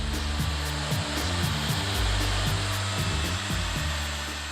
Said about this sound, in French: L'ébauche est réalisée à la tronçonneuse.